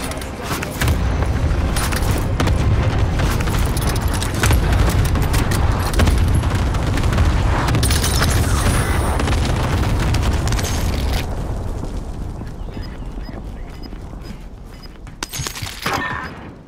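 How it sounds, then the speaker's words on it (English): Cluster strike explosions in Call of Duty: Modern Warfare roar as a continuous loud barrage of blasts and debris for about ten seconds, then fade into scattered crackles with voices chatting. "Allied cluster strike"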